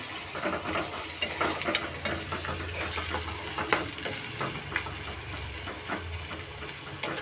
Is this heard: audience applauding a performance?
no